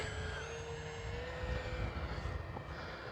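A Kavan Bristell B-23 radio-controlled model airplane flies under a clear sky, its engine a steady faint droning hum with a thin whine, distant and continuous with no speech.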